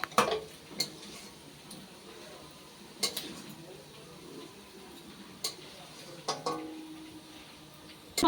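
Fried prawns are shifted onto a plate, giving a few sparse clinks and scrapes of utensil against dishware over a quiet kitchen background, with soft faint sizzling underneath.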